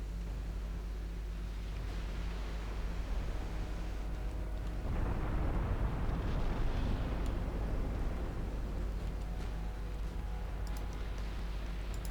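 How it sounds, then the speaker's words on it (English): Torpedoes strike a battleship in the naval game Ultimate Admiral Dreadnoughts. After a low rumbling ambience, a broad, muffled explosive surge swells in about midway and lingers as a rolling, roaring wash. "torpedo hits on the battleship"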